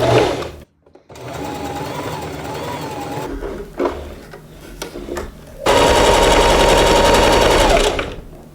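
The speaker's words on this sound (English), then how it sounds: "Let's see if the gathering foot is good." A sewing machine fitted with a gathering foot stitches strips of green fabric in loud, rapid mechanical bursts, pausing and restarting before a long fast run near the end.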